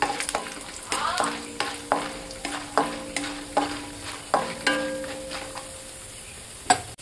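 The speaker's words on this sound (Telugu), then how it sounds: "అవి కొంచెం కలుపుకోవాలి." Urad dal, chana dal and mustard seeds fried in oil and stirred, a steady sizzle punctuated by repeated rhythmic scrapes and taps of a spoon against the pan, close and clear.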